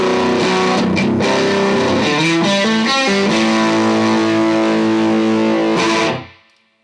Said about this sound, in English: And I get more distortion, more overdrive.